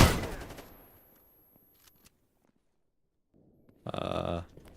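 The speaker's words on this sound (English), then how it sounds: "Somehow one of my companions got a grenade" A grenade detonates in the shooter game Stalker (GAMMA mod), a loud short blast near the end following a few seconds of quiet after earlier clatter.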